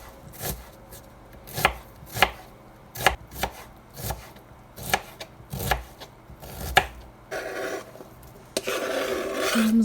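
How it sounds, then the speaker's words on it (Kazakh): Onion being finely chopped with a knife on a board for samsa filling: about a dozen crisp, evenly spaced close knife strikes, followed near the end by louder rustling and scraping. "Ең алдымен жуамызды ұсақтап турап аламыз."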